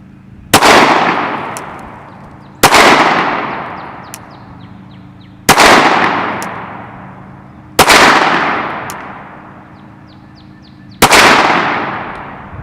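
Five loud, close handgun shots ring out at a range during shooting practice, each a sharp crack with a long decaying echo, fired at uneven intervals of about two to three seconds, with no talk.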